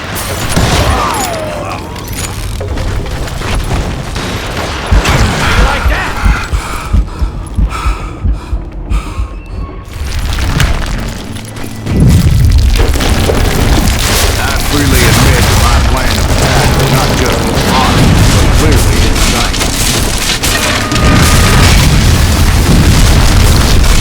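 Gunpowder and dynamite explosions in the Western shooter Call of Juarez Gunslinger, with loud booming blasts and bursts of gunfire running through most of the stretch, briefly thinning in the middle before heavy, continuous detonations resume.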